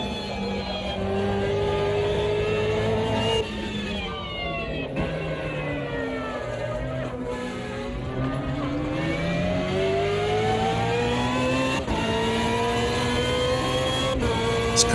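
A BMW race car in Automobilista 2 at Road Atlanta, historic endurance class, its engine droning and revving steadily up and down through gear changes, loud and continuous throughout.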